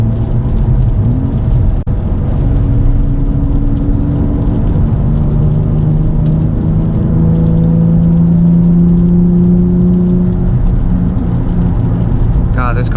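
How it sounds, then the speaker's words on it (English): Steady engine and exhaust drone from inside a Nissan 350Z with a muffler delete, driving wet backroads in the rain, with a low rumble and droning tones rising and falling. "I don't know how good you guys can hear the exhaust, but all we have is a muffler delete"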